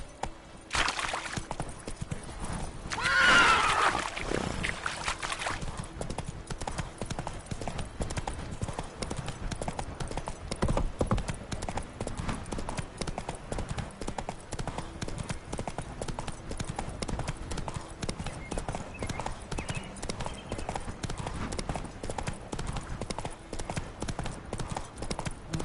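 Roach, a horse in a video game, trots in a steady rhythmic clip-clop of hooves for a long stretch, with a brief louder burst near the start that may include a whinny.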